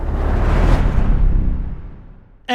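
A whoosh transition effect from UVI Meteor FX, a broad airy noise sweep that swells in the first second and fades away over about two seconds, ending in a brief sharp burst of sound.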